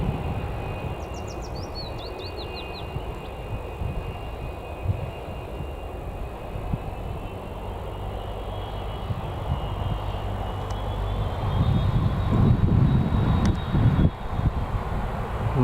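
A Jet2 Holidays airliner taxis toward its gate at Newcastle Airport after landing, its engines a continuous distant whine and rumble that builds slightly louder near the end.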